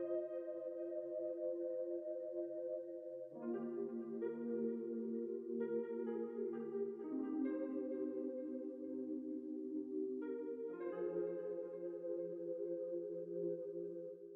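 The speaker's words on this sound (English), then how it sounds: "I added this Mellotron like gospel pad that sounds like this." A Mellotron-like gospel pad in an emotional R&B beat holds soft, sustained chords that shift every few seconds, smooth and unaccompanied.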